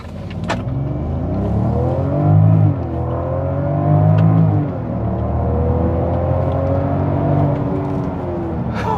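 A 2021 Range Rover Velar with its most powerful engine launches hard from a stop in dynamic mode, a loud close engine roar rising in pitch through a gear change, dipping briefly and then climbing again as it keeps accelerating.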